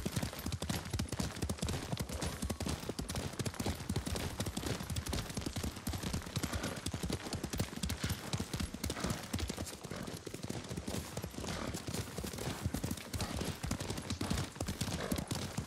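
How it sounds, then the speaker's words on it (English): Rapid hoofbeats pound continuously as a horse gallops in the video game Ghost of Tsushima, a dense, steady clatter with no pauses throughout. "Lord Sakai taught me to ride a horse."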